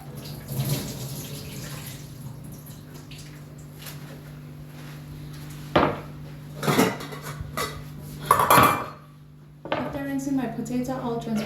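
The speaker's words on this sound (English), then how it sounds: "I'll then transfer into the dish to rinse before I boil." Peeled potatoes are moved into a dish to be rinsed before boiling, with clattering of dish and pot, a couple of splashes and running tap water in a kitchen sink, while a voice talks intermittently.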